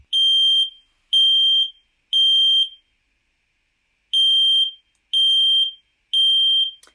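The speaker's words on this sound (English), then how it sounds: "let's do the first one, which is the smoke alarm beep" A smoke alarm sounds its traditional three-beep alert: two clusters of three loud, piercing, evenly spaced beeps, split by a second of silence, each beep a shrill electronic tone heard alone.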